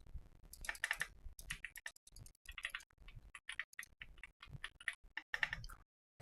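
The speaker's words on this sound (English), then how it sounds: "I'm tapping on this keyboard" Rapid, close clacking of keys on a loud computer keyboard, irregular bursts of sharp taps with brief pauses between them and no voices.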